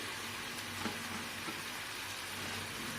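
Spices, salt, chopped coriander and mint sautéing in a pan for dum biryani give a steady, close sizzle with faint stirring scrapes and no talk.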